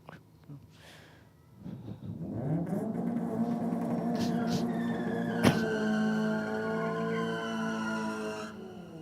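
Toyota Corolla and BMW M3 race cars, one engine idling then rising into a sustained, rough harmonic drone with a sudden loud thump partway through; fairly close, with faint talk early on.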